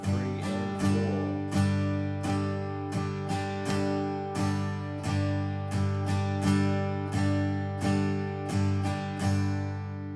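Rhythm guitar strumming, a steady pattern of sharp chord strokes with a quick upstroke slipped in between the third and fourth beats, ringing loud and close with no talk over it.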